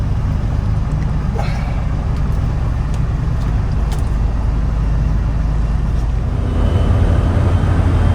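A 1993 Suzuki Carry Joy Pop kei van with automatic transmission drives along, a steady close engine drone and road rumble filling the cabin, swelling louder toward the end as it accelerates.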